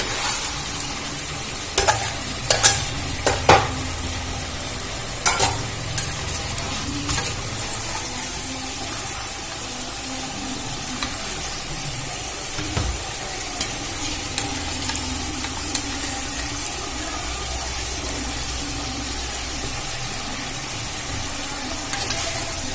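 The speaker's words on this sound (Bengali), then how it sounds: "মাংসটা আমার কষানো হয়ে গেছে, খুব ভালো করে ভাজা হয়ে গেছে।" Chicken sizzles steadily in a hot pan while a utensil scrapes and stirs, with a few sharp clinks early on and no talking.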